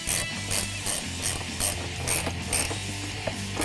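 Rapid rhythmic clicking of a ratchet wrench tightening a bolt on a Ford Mustang EcoBoost cold air intake box, close-up, in short repeated bursts.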